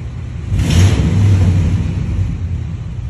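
A nearby Ford F-250 truck's 5.4-liter V8 with a large vacuum leak surges and sags unevenly, rumbling low as it sputters and nearly stalls before recovering.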